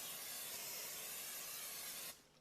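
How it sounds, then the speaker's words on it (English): Non-stick cooking spray goes onto a waffle iron in one continuous close hiss lasting about two seconds, then cuts off abruptly. "spray a little bit of non-stick spray"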